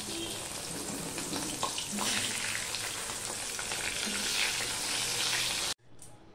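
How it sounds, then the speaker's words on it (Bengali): Eggplant slices fry in hot mustard oil in a wok, a steady loud close sizzle with some stirring scrapes that runs several seconds, then breaks off abruptly into near silence with a faint final hiss. "দিয়ে বেগুনগুলো আমি ভেজে নেব।"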